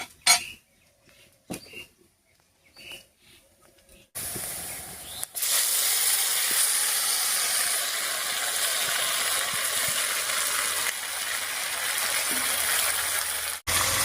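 Marinated magur fish hits hot oil over fried onions and starts a loud, steady sizzle that continues without letup. A few soft clinks of utensils come before it.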